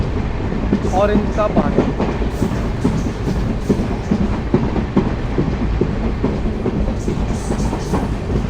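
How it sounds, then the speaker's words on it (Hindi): An Amritsar–Bikaner Superfast Express (14720) runs at speed through orchard country in Rajasthan, a steady, loud rumble and clatter of wheels on rails from on board, with someone speaking over it. "आगे बढ़ती हुई हमारी अमृतसर बीकानेर एक्सप्रेस।"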